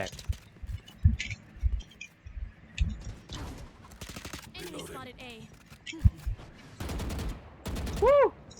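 Video game gunfire in a tactical shooter match, with sharp bursts and single shots scattered through the clip, some louder and closer, mixed with quick in-game effects and short clicks.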